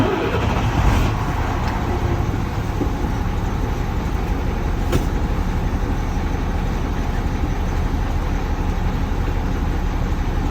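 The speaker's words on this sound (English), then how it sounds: "I will turn the vehicle on, raise to governor cutout" Truck diesel engine running at a steady, loud drone as it is held up toward governor cutout, a continuous close rumble with no speech.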